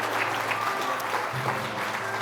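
Audience at an award ceremony honoring a food justice champion breaks into steady, dense applause that carries evenly throughout without pause.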